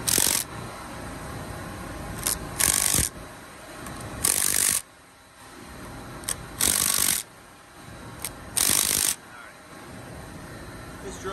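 A ratchet snugs bolts onto a sport valve (EPR) assembly in a garage, with several short bursts of clicking ratcheting spaced a couple of seconds apart over low background noise.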